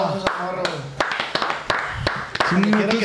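Podcast hosts clap in a loose, sparse burst of sharp hand claps, close to the microphone, mixed in with ongoing conversation and laughter.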